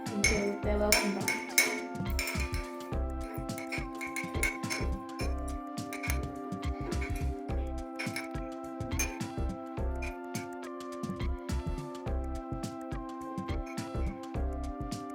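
A spoon stirring flour, cocoa powder and sugar together in a mug makes rapid, repeated clinks and scrapes against the ceramic, close and fairly quiet, in a steady run.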